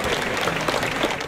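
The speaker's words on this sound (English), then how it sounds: "As the Muslim community finished their prayers, they were met with applause from those waiting outside" A crowd gathered outside a mosque applauds Muslim worshippers leaving after prayers, a brief burst of dense clapping from many people, fairly close and steady.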